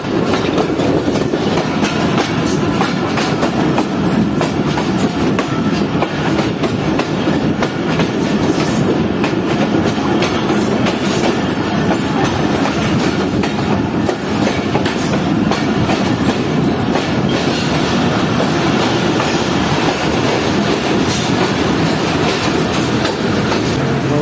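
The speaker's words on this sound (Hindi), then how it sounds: "दोस्तों पूरे 8 बजे ट्रेन एंटर हो रही है सादकाबाद रेलवे स्टेशन पर।" The Fareed Express train rolls into Sadiqabad railway station, its wheels clattering steadily over the rail joints in a loud, continuous rumble that lasts throughout, with no voices.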